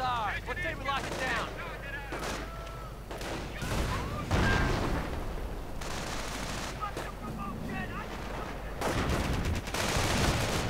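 Video game battle gunfire between riflemen and grenadiers: dense bursts of rifle and machine-gun fire with heavier booms, continuous and loud, with a voice commentating over it.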